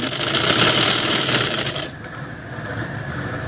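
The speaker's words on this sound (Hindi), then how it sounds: "तो चलिए इस पर सिलाई लगाना स्टार्ट करते हैं" A sewing machine stitching kurti fabric runs with a fast, steady mechanical whir, then slows and quiets partway through as the stitching eases off.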